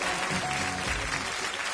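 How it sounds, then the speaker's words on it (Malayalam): Studio audience on a Malayalam TV show floor breaks into steady, dense applause, a continuous wash of many hands clapping at moderate level with no talking over it. "ഒരു ഗംഭീര കയ്യടി."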